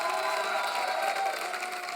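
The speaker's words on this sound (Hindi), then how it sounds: "एक बार जोरदार तालियां हो जाए हमारे मेहमानों के लिए" Studio audience applauding guests on a Hindi comedy talk show, a steady dense wash of clapping and cheering held throughout at even loudness.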